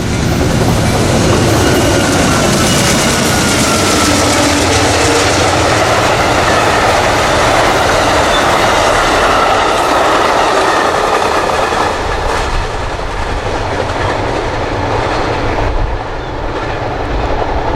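A freight train hauled by EMD locomotives rolls steadily past in a quiet no-horn downtown zone, a loud continuous rumble and rattle of railcars with faint rhythmic clickety-clack, never easing across the whole stretch.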